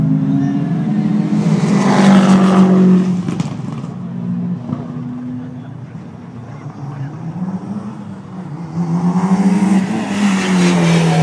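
Mitsubishi Lancer Evo 8 rally car on a tarmac rally stage, engine roaring and changing pitch as it passes, fading then rising again, with a voice talking over it.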